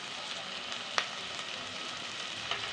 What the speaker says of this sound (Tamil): வெங்காயம் பொன்னிறமாக நல்லா வதங்கட்டும்